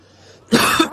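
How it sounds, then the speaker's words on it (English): A single close, harsh cough bursts out after a moment of quiet, followed by a shorter second cough. "Excuse me for the coughing."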